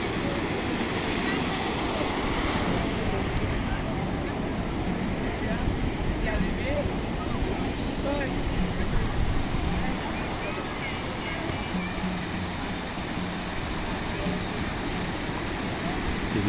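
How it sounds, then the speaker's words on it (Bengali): Sea waves at Cox's Bazar beach roar in a continuous, loud wash of surf, steady throughout with shifting swells and some wind. "দেখুন কত সুন্দর পানির গর্জন।"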